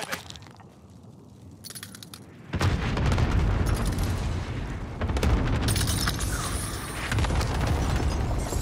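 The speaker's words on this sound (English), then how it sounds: "Allied cluster strike arriving." Cluster strike explosions in Call of Duty: Modern Warfare rumble in after a quiet, sparse start, swelling into a loud, rolling string of heavy blasts that carries on to the end.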